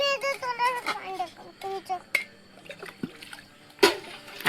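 Water splashes and trickles onto soapy dishes as they are washed by hand at home. The pours come in short, irregular bursts, and voices, including a child's, talk over them now and then.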